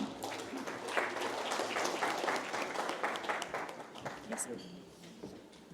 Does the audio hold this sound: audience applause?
yes